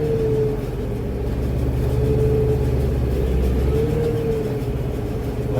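A tractor engine pulling a hay baler in first gear on a rough late first cutting, a steady loud low rumble with a droning mid-pitched whine that holds level throughout, no talking.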